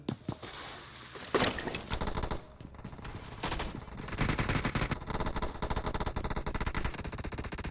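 Gunfire in the mobile battle-royale game PUBG Mobile comes as loud, rapid automatic bursts, broken by short pauses and then sustained firing near the end, with no talking.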